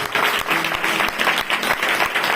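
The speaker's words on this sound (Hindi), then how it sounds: "आइए जोरदार ताली बजाकर स्वागत करें।" A church congregation in a small Hindi-speaking assembly claps to welcome first-time visitors, steady close applause filling the room with dense, even rhythm throughout.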